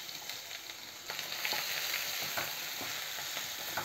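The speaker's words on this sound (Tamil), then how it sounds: "வெங்காயம் நல்லா பொன்னிறமாக வதக்கிக்கலாம்." Chopped onions sauté in hot oil with a steady close sizzle, and light spatula scrapes and stirs recur through the frying with no voices.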